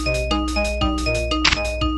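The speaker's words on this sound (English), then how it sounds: "That's the sound of a hammer." Electronic toy hammer sound from a VTech drill and learn toolbox, a loud run of bright, tinny chiming tones repeating in a quick rhythm, with a jangly burst midway, no talking.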